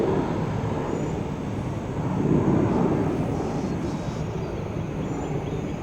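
An airliner on approach to land at Orlando airport on an early morning gives a steady broad jet roar that swells slightly midway, heard alone without voices.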